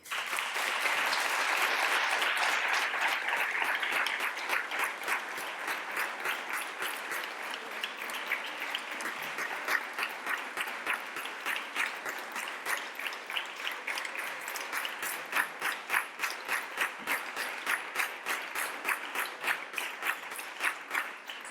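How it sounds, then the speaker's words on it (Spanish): An audience at a cultural talk applauds steadily for about twenty seconds, dense clapping at first thinning into a rhythmic, slightly uneven patter; no talk. "quisiera darlas a las dos un grandísimo aplauso"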